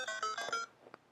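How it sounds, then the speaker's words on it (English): A phone signals an incoming call with a short burst of bright, stacked electronic tones lasting about half a second, followed by a couple of faint blips, heard alone in a quiet room. "I just got a phone call that I had to take"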